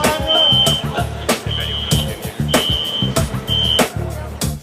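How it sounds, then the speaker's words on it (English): A fire alarm sounds at a spa under renovation, its shrill high tone repeating in four short bursts, with background music and other noises running beneath it. "Nobody knows what tripped the fire alarm."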